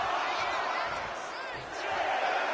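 Arena crowd cheering in the wrestling video game WWE2K25 during a Last Man Standing match, a dense, loud, continuous roar with a brief dip midway, while a commentator talks over it.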